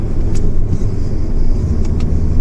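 Fiat Egea car driving along, a steady low engine rumble and road noise with a few faint higher clicks that could be gear changes, fairly loud and close inside the cabin.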